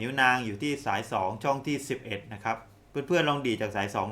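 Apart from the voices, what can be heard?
No everyday noise stands out behind the speech.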